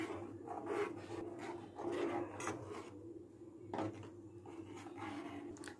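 Gobindobhog rice being stirred in boiling milk for jaggery-candy payesh, a steady scraping and rasping of the spoon against the pot with brief louder strokes, close and continuous with no talk.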